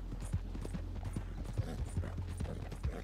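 Hooves of Roach, a horse ridden in the video game Red Dead Redemption 2, clop in a steady galloping rhythm, a quick run of close, soft thuds over a low rumbling hum.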